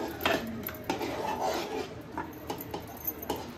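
A spoon scrapes and knocks against a pot while modak dough is stirred, the clatter coming in irregular taps and scrapes at close range with no talk.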